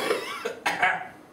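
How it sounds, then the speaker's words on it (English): A single sharp human cough bursts out mid-clip, close and loud, in a quiet indoor room during a lecture on probability distributions; a faint voice trails off before it and resumes after. "I'm not coughing before the camera starts here"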